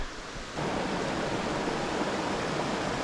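A creek in Pennsylvania flows in a steady broadband rush that swells louder after the first half second, as if drawing nearer to the water, with no talking.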